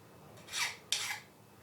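Metal corners are deburred with a hand file in two short rasping strokes, close and fairly quiet, with a brief pause between them.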